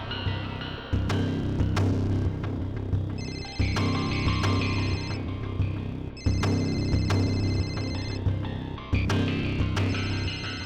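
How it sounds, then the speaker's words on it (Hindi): A telephone rings in repeating electronic bursts over a steady musical background, the pattern cycling several times. "ये जो बेल बज रही है"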